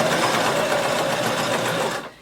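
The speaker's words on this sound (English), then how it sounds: "you can just start sewing" A sewing machine stitches fabric for a skirt in one continuous, fast, even run, close and clear, then stops abruptly near the end.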